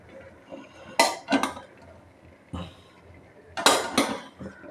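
Rice is served at home with plates and steel cutlery clinking and scraping, several sharp clattering bursts separated by quieter pauses, close by.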